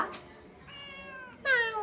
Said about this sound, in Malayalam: അമ്മാമ്മയുടെ പൂച്ചക്കുട്ടികളെല്ലാം ഫ്രണ്ടിൽ തന്നെ ഇരിപ്പുണ്ട്